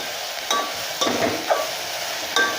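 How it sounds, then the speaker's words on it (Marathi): Onion sautés in a pan for a black mutton curry, a soft steady sizzle under a few light clinks and scrapes of a spoon against the pan, with no voice. "हा कांदा आपण छान परतून घेणार आहोत।"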